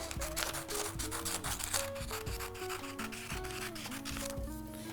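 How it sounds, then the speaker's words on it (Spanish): Scissors cut lengthwise through a printed paper template for a princess tiara, giving a dense run of close, scratchy rasping snips over faint tonal music. "Vamos a cortar con la tijera el largo"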